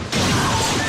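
Glass fish tanks smashing in a movie scene: a sudden loud crash bursts in and stays as a dense, sustained wash of shattering noise.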